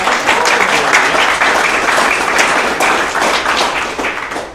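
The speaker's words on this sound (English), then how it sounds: "give him a round of applause, guys." Audience applause at a Palm Beach tech meetup: a full room claps steadily and densely for several seconds, staying loud throughout and tapering only slightly at the end.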